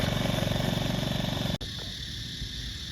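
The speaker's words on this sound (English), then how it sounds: "mowing the outfield" A mower engine drones steadily while mowing a muddy cricket outfield, a pulsing mechanical hum that abruptly drops to a quieter idle partway through.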